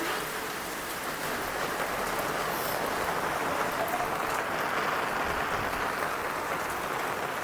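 Heavy rain pours over a Gujarat village, a steady, even hiss of drops on surfaces that holds unbroken throughout, with no talking.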